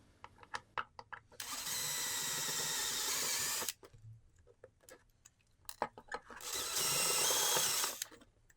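A power drill whirs in two bursts of about two seconds each, drilling out a rivet on a GSX-R motorcycle, separated by clicks and rattling of metal parts, close by.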